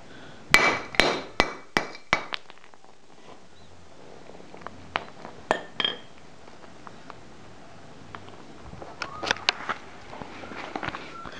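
A hammer strikes a ceramic piggy bank in a run of sharp, loud blows, about six in quick succession, then a few more spaced hits and crunching, clattering debris toward the end.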